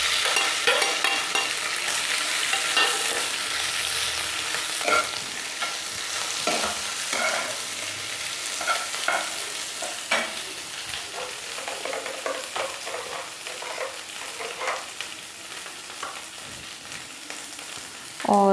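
Mashed potatoes with ground coriander, turmeric and red chilli are stirred in a frying pan as a filling for stuffed moong dal chilla, a continuous close scraping and sizzling with scattered spoon knocks and a faint voice briefly.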